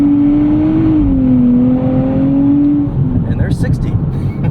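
A 2024 Nissan Z Nismo holds its revs on launch control, giving a loud, steady drone that rises slightly before dropping as the car pulls away. Someone speaks over the engine.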